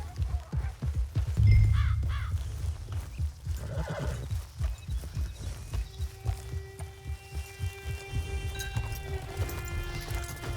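In the Red Dead Online video game, a horse whinnies loudly, then its hooves clip-clop at a steady walking rhythm, with crows cawing in the background.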